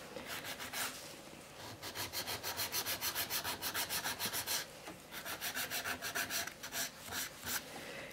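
A file shaping an acrylic nail into an almond form makes quick, close rasping strokes in rapid rhythmic bursts, with brief pauses between runs of scraping.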